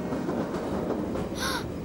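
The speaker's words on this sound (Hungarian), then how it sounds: "Valójában a vonat mozog, Caillou." Steady rumble of a train rolling along in a cartoon, with continuous wheel noise and a brief high squeal near the end, no talk over it.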